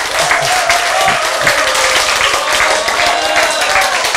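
Audience applauding and cheering together at a motivational health lecture, a dense, steady wash of clapping with crowd voices held at constant loudness throughout.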